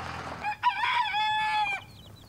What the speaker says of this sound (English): pick up the salmon favoral chicks Azili's been guarding